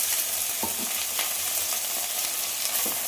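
Okra sizzles steadily in a couple of spoonfuls of hot oil in a pan, a continuous close crackling hiss broken by a few soft scraping stirs, with no voices.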